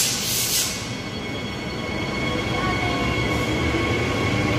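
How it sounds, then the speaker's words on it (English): A train runs past on the line at Joondalup station, a continuous loud rumble of wheels on rails with faint squealing throughout, close and steady. "Followed by another passing train."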